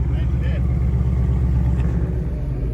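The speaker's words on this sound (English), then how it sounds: "Listen to the kid's car." A car engine and exhaust idle with a steady, loud low rumble close by, a constant drone with no clear revving throughout.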